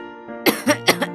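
A grandmother in a cartoon coughs three or four times in a row, close and fairly loud over a sustained background tone.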